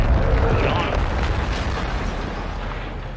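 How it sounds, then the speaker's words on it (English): A gas station explodes in Call of Duty Modern Warfare 2, a loud, deep roaring boom that rumbles and slowly decays over a few seconds. "I just blew up the gas station."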